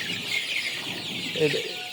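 Month-old Sonali chickens on a poultry farm cluck and chirp softly in a steady flock murmur, with a slightly louder cluck near the end.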